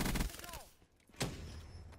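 Gunfire in Call of Duty Black Ops: a rapid, dense burst of automatic shots at the start, then a lull and a single loud crack, with faint voices in the mix.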